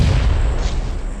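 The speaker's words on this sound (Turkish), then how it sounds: "Öldürdüğümüz adama bomba mı attın?" A deep, muffled grenade explosion in PUBG Mobile booms and rumbles loudly for about a second.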